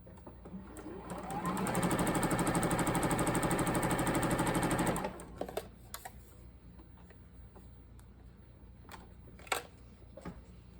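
A sewing machine stitching quilt pieces together runs in one steady, rapid burst for about three seconds, then stops, leaving faint handling clicks and rustling.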